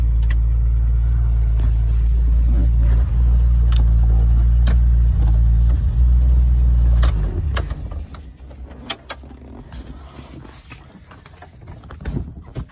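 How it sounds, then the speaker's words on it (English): A loud, somewhat broken-sounding 1998 Jeep Wrangler engine idles with a heavy low rumble for about seven seconds, then shuts off, leaving faint clicks and small handling noises inside the vehicle. "This Jeep is loud because it is a little bit broken, I believe."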